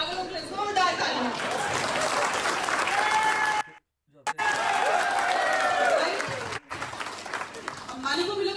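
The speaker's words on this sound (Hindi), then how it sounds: "तो सभी मेरे पागलों के लिए जोरदार तालियां" An indoor audience at a motivational networking talk breaks into loud, sustained applause. A brief drop interrupts it before the clapping surges back, with some crowd chatter and voices mixed in.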